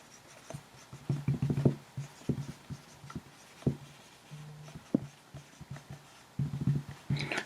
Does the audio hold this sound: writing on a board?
yes